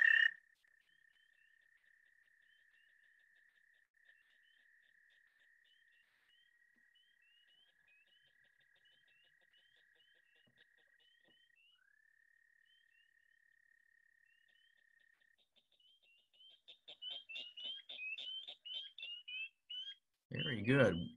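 A recorded chorus of several frog and toad species from around St. Louis: a long steady trill runs through most of it, with a sharp burst at the start and a louder mix of chirping calls near the end.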